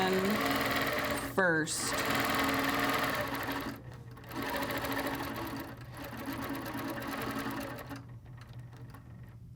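A sewing machine stitches a quilt design along rulers with a steady, fast mechanical whir that runs almost throughout, pausing briefly a few times, while someone talks over it.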